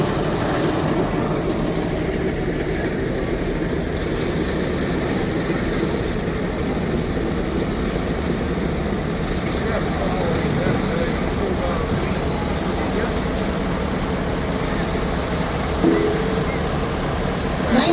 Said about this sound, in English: The Superford Huber Manufacturing Company tractor.